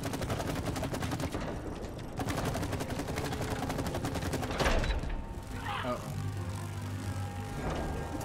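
Rapid gunfire bursts from the video game It Takes Two, loud and dense, repeating in fast volleys across most of the stretch with brief pauses, while players talk over the shooting.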